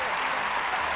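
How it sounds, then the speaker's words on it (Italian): Audience at a live buffalo mozzarella tasting event breaks into brief, dense clapping, close and even throughout, with no speech. "fatemi un applauso"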